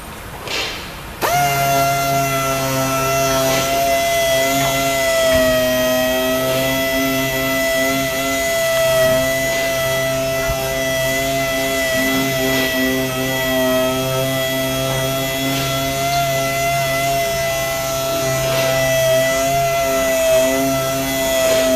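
Steady sanding of a car headlight lens with 3000 grit sandpaper, likely wet sanding, a continuous rasping hum with strong tonal bands that holds evenly and loud for about twenty seconds after a brief start, no talking.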